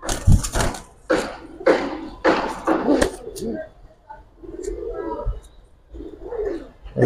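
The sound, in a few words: Giribaz and coloured pigeons being handled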